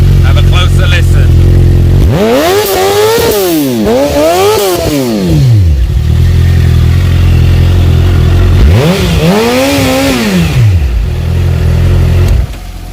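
Close-up Suzuki GSX-R750 exhaust, loud and deep at idle, blipped through two quick consecutive revs, back to idle, then one more rising and falling rev before the throttle drops off.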